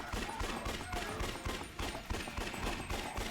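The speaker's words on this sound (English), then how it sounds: "Submachine is really good. Running out of ammo for it though." A submachine gun in Yakuza: Dead Souls fires rapid, closely spaced bursts with steady rhythm, loud and near, with little else over it.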